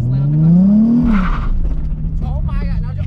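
A manual drift car's engine revs up, then bogs and cuts out as the clutch is let out, a rising whine dropping into a stall, with people talking and reacting over it.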